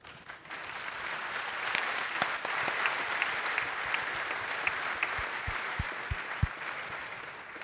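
At a developer conference fireside chat, an audience applauds the engineers with a steady, moderately distant wash of clapping, dotted with a few louder, sharper claps and low thumps near the end.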